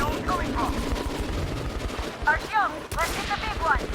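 Dense gunfire from Metro Last Light Redux rattles steadily in rapid bursts at close range, mixed with game effects and sharp chirping sounds, with voices talking underneath.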